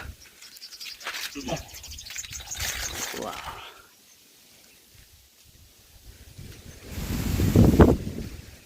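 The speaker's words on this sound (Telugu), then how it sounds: "గాలి అయితే ఫుల్గా తోలుతుంది" Strong wind sweeps through a thirty-year-old mango orchard while someone climbs a tree. Gusts buffet the microphone, building to a loud rumbling burst near the end, with a voice heard earlier.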